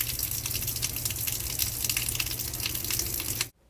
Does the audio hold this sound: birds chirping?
no